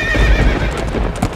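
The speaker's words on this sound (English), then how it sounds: "As the horse bolted out of the darkness" A horse gallops at speed, its hooves pounding in a loud, dense, rapid rhythm close by, with a brief neigh mixed in and no talking.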